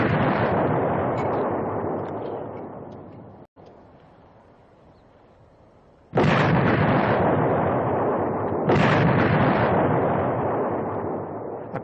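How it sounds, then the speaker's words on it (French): Artillery shells boom and roar as they are fired and burst. Long, loud, rumbling blasts are broken by a short quieter gap, then two more heavy explosions follow close together. "Toutes les 2 minutes, on entendait le coup de départ, et puis un long sifflement et un éclatement."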